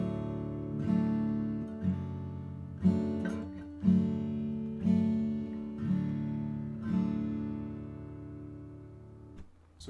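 A guitar in open D tuning (DADF#AD) strums a three-chord progression, each chord struck and left ringing at a steady pace, close and clear, with no talking.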